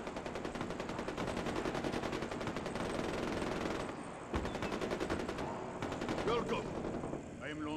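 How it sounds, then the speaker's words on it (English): Rapid bursts of gunfire in the Far Cry 4 video game, dense and continuous for several seconds with brief gaps, mixed with other game sounds. "Is there, like, gunfire and shit going on?"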